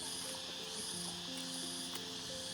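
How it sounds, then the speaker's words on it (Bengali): Many crickets chirp at once, a faint, continuous high-pitched trilling with a soft hiss behind it and no voices. "এত ঝিঝি পোকা ডাকছে।"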